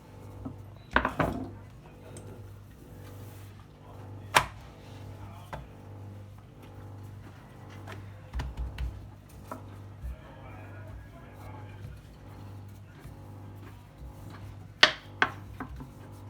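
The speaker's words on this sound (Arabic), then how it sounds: "دابا غادي ناخذ الكره ديالنا وغادي نبداو نسرحوا الفقاس ديالنا" A knife cuts through rolled logs of Moroccan fekkas dough studded with almonds and raisins, giving a few sharp, isolated knocks against the board spaced several seconds apart over a quiet kitchen background.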